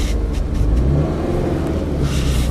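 A 2013 Subaru BRZ on a racetrack revs hard at close range, a steady loud engine drone held for a couple of seconds with no speech.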